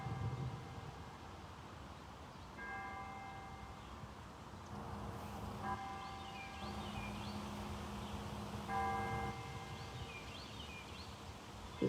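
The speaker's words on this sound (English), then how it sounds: "The church bells are ringing." Distant church bells ring in several faint, sustained peals over a quiet outdoor hush, with occasional bird chirps.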